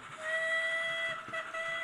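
An O Class model steam locomotive whistle sounds in one steady, bright tone lasting nearly two seconds, with a faint clatter of running wheels beneath it.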